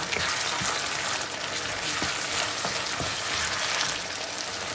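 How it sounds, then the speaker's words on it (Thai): Spaghetti sauce simmering in a pan, a dense continuous sizzle and bubbling close by, with a few faint soft knocks and no talking. "นี่นะคะ เราก็เคี่ยวไปเรื่อยๆค่ะ"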